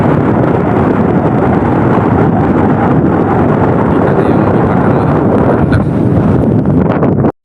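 Strong wind at a shoreline beside a fishing boat roars and buffets the microphone, a loud, continuous, rumbling blast with no break until it cuts off abruptly at the end.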